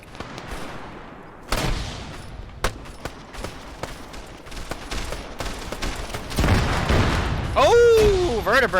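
Gunfire and an explosion in the video game Arma 3, a heavy boom followed by bursts of rifle and machine-gun fire, with voices talking over the combat and a rising whine near the end.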